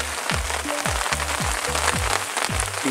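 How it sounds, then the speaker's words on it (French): Rain patters steadily on a tent canvas at night in the woods, dense soft drumming throughout with a series of repeated low thumps from heavier drops, no voices. "Il pleut à peu près depuis 1h du matin."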